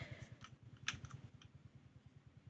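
A computer keyboard typed on during Roblox play, with quick steady clacking keystrokes throughout and a few sharper clicks, faint and close, with no talking.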